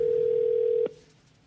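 A steady telephone dial tone plays from a red phone in a TV studio for under a second before cutting off with a click as the line connects, leaving quiet room noise.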